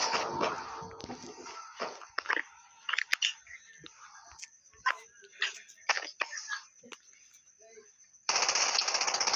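Rapid shotgun bursts crack out in quick clusters amid Call of Duty Mobile zombie mode effects, with a louder steady rattle at the end.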